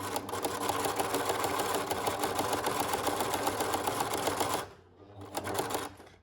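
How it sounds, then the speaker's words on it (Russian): A sewing machine stitches clothesline cord into an oval rug, a steady fast whirring clatter running close and loud for several seconds, then a short pause before it starts up again. "И продолжаю шить."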